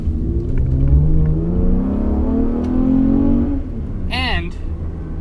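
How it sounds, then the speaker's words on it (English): A Camaro with traction control off, on 20-inch wheels and Pirelli PZero tires, accelerates through a sharp turn: a loud, steady engine drone rises in pitch and then drops away, ending with a brief high squeal. "I'm going to do a bit of a sharp turn with a little bit of acceleration here."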